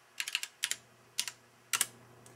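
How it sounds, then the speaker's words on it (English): Keys on a dumb terminal keyboard struck in short bursts of crisp, close clicks with pauses between groups, alongside a faint steady electronic tone from the terminal. "every time I hit a key on here, you can hear a beep from the terminal"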